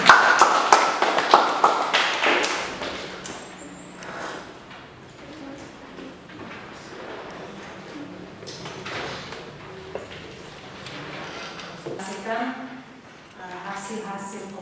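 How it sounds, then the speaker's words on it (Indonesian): A classroom group claps briefly for their classmates after a presentation; a short burst of scattered hand clapping opens, then fades into the background as people talk. "Tepuk tangan untuk kelompok."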